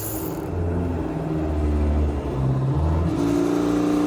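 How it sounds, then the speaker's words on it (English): An electric fuel pump on a Datsun 280z race car whirs steadily as fuel fills the carburetors, a close, continuous mechanical hum with a rising pitch partway through. "let's turn the fuel pump on and check for leaks. I can hear the fuel coming into the carbs."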